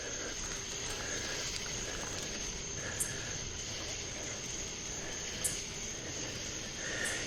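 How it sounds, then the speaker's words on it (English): Frogs keep up a dense, even chorus along a night bike route around Davidson and Huntersville, North Carolina, a constant high-pitched trilling broken by a few short sharp chirps at moderate distance. "Hear all those froggies?"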